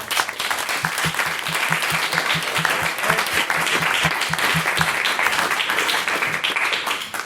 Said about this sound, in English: If we could get a second round of applause